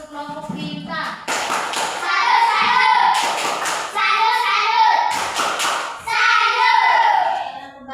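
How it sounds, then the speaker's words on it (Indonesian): Children clap together in a classroom for a star group, a busy patter of small hands in several bursts with childish voices and shuffling mixed in. "mau kasih tepuk salut untuk kelompok bintang"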